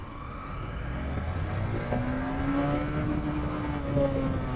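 A motorcycle pulling away in first gear, its engine note rising steadily as it accelerates, heard from on board over steady road and wind noise.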